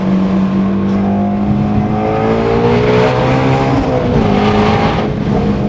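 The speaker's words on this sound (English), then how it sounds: "when it comes to downshifting, you can rev match downshift like that." A Ford Mustang GT350R engine revs hard and continuously while rev-matching a manual downshift, loud and close, its pitch rising and falling through the blip with no talk over it.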